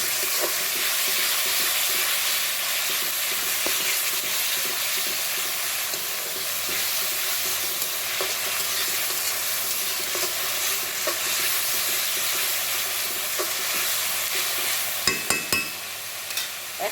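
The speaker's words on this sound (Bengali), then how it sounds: "এখন তাহলে ভালো করে ভাজবো" Duck meat frying in oil with ginger, garlic, salt and bay leaf, a steady close sizzle with stirring scrapes throughout and a few sharper clinks near the end, no voices.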